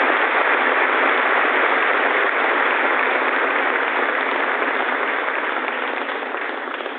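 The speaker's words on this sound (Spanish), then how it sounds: "El aplauso de los peregrinos que han verdaderamente llenado el aula Pablo VI en este miércoles de la tercera semana de Cuaresma" Pilgrims filling the Paul VI Audience Hall at the Vatican applaud during a papal general audience, a continuous, even roar of clapping from a large crowd, heard narrowband and without voices.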